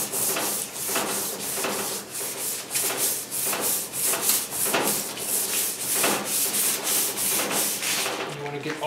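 Sandpaper of about 220 grit rubs by hand over the metal surface of a washer or dryer, a steady, close scratching with regular back-and-forth strokes throughout.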